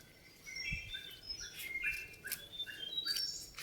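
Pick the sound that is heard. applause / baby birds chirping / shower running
baby birds chirping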